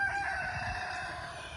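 A big rooster crows in a village, one drawn-out, fairly loud cock-a-doodle-doo heard alone over faint outdoor background.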